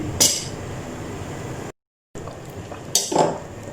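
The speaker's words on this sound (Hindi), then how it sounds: "1-2 बार चमचा बीच में हिलाएंगे ताकि चावल जो है सारे मिक्स हो जाएं।" A spoon scraping and clinking inside a cooking pot as chana pulao rice is stirred, two sharp metallic knocks over a soft simmering bed, with a brief dropout of silence midway.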